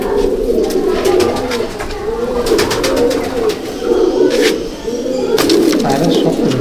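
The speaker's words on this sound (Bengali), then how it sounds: "জামুনি পাঞ্জা পায়রা" Jamuni Panja pigeons coo loudly and continuously in a loft, their low throaty calls rolling in repeated waves alongside sharp clicks and rustling from nearby birds.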